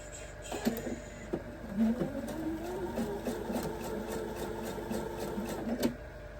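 A sewing machine stitches across a quilt block in a steady, close mechanical whir with rapid needle rhythm and a few clicks, running alone without voices.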